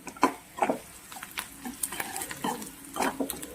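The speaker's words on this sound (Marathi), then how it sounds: "कांद्याचा कलर चेंज होईपर्यंत आपल्याला याला परतून घ्यायचं आहे." Onions sautéing in a pan for stuffed brinjal curry, heard as irregular stirring scrapes and spoon knocks over a faint, low sizzle, close up and without speech.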